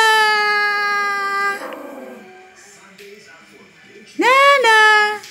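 A jealous pet dog at home howls in long, wavering, pitch-sliding cries, one drawn-out howl at the start and a sharper rising one near the end, with voices mixed in between.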